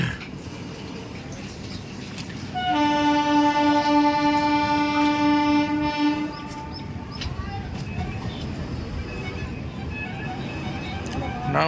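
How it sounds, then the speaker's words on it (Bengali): A train at a railway station on the way to Ranchi sounds a long, loud steady horn over rumbling wheels and station noise, with people talking nearby. "ট্রেন ছেড়েও দিয়েছে এখান থেকে"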